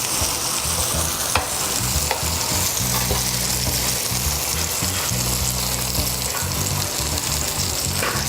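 Salmon frying in a skillet gives a steady, dense sizzle that runs close and constant, with occasional soft clicks of stirring and no voices.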